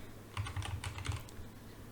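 Brisk typing on a computer keyboard, a quick burst of close, crisp key clicks lasting just over a second, with no talk.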